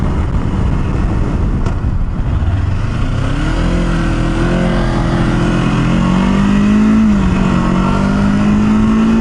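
A Kawasaki Versys-X 300 motorcycle engine drones steadily while riding onto a highway, rising in pitch as it accelerates, loud and close with constant wind roar.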